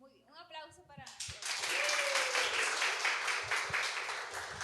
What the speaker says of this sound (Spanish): Muy bien, un aplauso para...